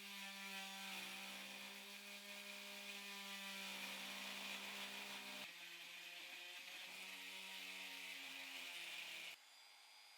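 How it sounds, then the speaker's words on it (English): Dremel rotary tool spinning a wire wheel against rusty inner metal shielding of an original Crystal Xbox, a steady high whine with harmonic tones that shifts pitch twice as the load changes, close and continuous with no talking. "I'm using a Dremel and wire wheel to remove the rust from the inner shielding of my Crystal Xbox."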